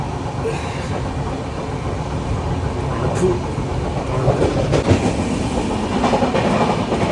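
A train rumbles along with a steady clatter of wheels on the rails, heard from inside, with faint voices now and then.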